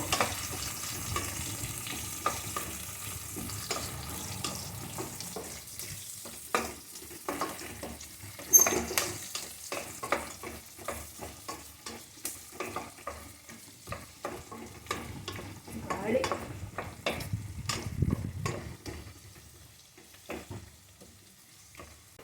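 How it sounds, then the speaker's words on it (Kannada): Onions frying in a pan for a methi paneer biryani, a steady close sizzle broken by frequent scraping stir strokes and spatula knocks throughout. "ಈಗ ಆನಿಯನ್ ಅನ್ನು ಹಾಕೊಳ್ತಾ ಇದ್ದೇನೆ. ಆನಿಯನ್ ಚೆನ್ನಾಗಿ ಫ್ರೈ ಆಗಬೇಕು."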